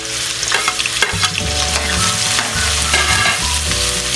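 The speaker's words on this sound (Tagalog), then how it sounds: "gigisa muna natin yung ingredients" Ginger, onion and garlic sauté in hot oil in a pan, giving a loud, close sizzle broken by repeated stirring clatter and scrapes, with no one talking.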